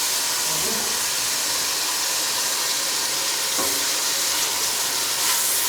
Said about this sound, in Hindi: लहसुन अदरक का पेस्ट हमारा फ्राई हो चुका है। अब इसमें टमाटर ऐड करते हैं।